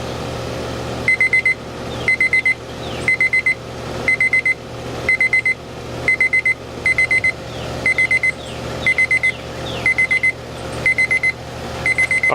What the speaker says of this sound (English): we've hit 140 internal temp. Let me turn the alarm off.